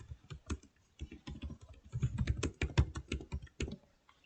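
Computer keyboard keys tapped in quick, uneven bursts as a search keyword is entered for SEO research, close and clear with short pauses, no talking.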